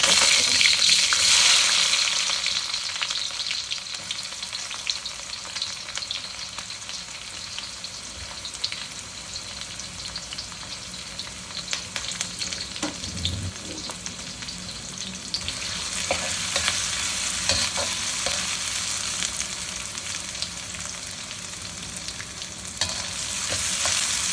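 Spices frying in hot oil for mutton biryani give a steady, close sizzle with crackling and occasional stirring scrapes throughout, no talking.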